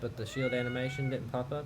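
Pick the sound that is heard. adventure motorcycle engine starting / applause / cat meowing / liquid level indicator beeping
cat meowing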